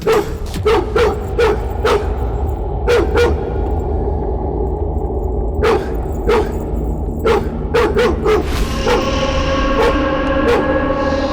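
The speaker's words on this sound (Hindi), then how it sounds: "आपको भी देखकर ये भौंक रहा है" A dog barks loudly and close by in a Hindi-dubbed action film scene, letting out bursts of sharp repeated barks and yips with brief whimpering tones between them.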